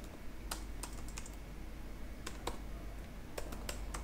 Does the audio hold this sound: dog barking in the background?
no